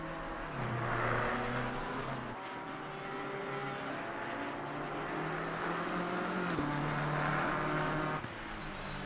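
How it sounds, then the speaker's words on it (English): Race cars lap the Misano circuit in a sim racing game, their engines droning and rising and falling in pitch through gear changes over several seconds. "So here are the nice cars on the track."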